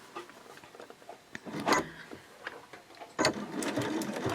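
Short bursts of a sewing machine closing the opening of a mini Christmas stocking with a 2.0 stitch length about an eighth of an inch from the edge, close and fairly quiet, with handling sounds between runs.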